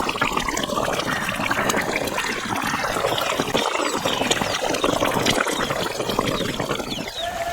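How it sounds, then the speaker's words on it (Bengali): Doi ilish, a Bengali hilsa fish curry in yogurt gravy, bubbles in a pan, giving a steady close bubbling and simmering hiss that runs unbroken and fairly loud with no voices. "ঝোলটা টকবক করে ফুটে নেব"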